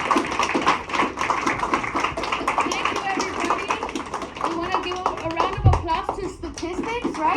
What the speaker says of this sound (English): We want to give a round of applause to